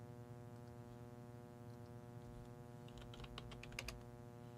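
Typing on a computer keyboard, a short run of quick, faint key taps that thickens into a brief flurry over a steady low hum.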